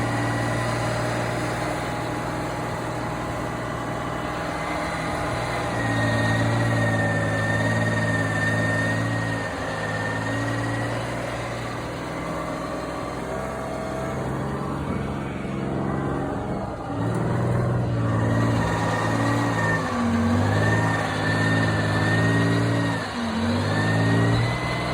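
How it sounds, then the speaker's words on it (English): The engine of an FV432 armoured vehicle runs loudly and steadily, a deep droning rumble that rises and falls as it revs, with no talk over it. "So this is the FV432 that I drove"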